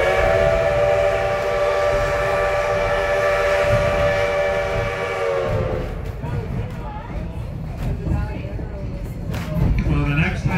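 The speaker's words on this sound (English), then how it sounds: "The next long whistle will start when the engine is right on the edge of the road bed" A Huckleberry Railroad steam locomotive blows a long, loud whistle at a road crossing, holding a steady multi-tone chord for about six seconds before cutting off, followed by rumbling train noise and faint voices.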